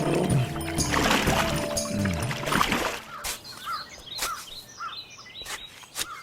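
A small country boat is rowed across water: rough splashing and sloshing at first, then quieter dripping strokes, with birds chirping in the background.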